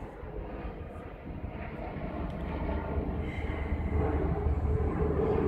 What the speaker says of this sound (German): Moment, Flugzeug.